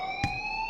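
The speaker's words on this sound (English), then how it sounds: "please turn off that alarm since that's your job" School fire alarm in the game Life Is Strange, a steady electronic tone of stacked pure pitches, ringing continuously at a constant level with a brief thump partway through.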